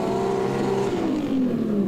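Drift car engine bouncing on the rev limiter while the driver left-foot brakes at a drift series event, a loud, steady, buzzing engine note with a harmonic that slowly falls, close and continuous.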